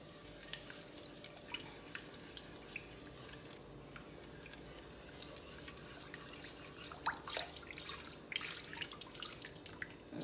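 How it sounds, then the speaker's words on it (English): Liquid coconut mixture poured into a sweet potato pudding batter in a home kitchen: a soft steady trickle with wet splashes and small clinks, growing busier toward the end. "mommy's going to add in the coconut mixture now"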